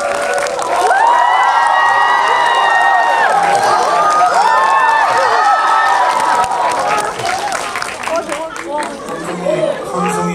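A cinema audience at a Korean film Q&A screening event for Zombie Daughter greets a surprise guest with loud cheering, shouting and applause that swells and then fades, with voices calling out within the crowd.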